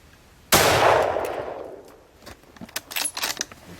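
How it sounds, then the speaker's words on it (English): One loud rifle shot fired at coyotes on Canada's east coast, a sudden close crack with a long fading tail, followed by faint rustling and clinking handling sounds. "My first shot, I hit one."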